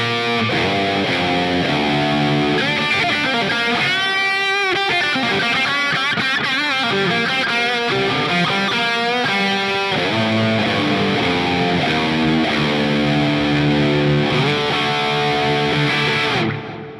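A distorted electric guitar through a NUX Amp Academy Stomp tube amp emulation plays continuous chords and lead runs, crunchy and thick, with no talking.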